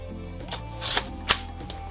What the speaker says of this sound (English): we should be able to achieve every single BB being fired from the TK45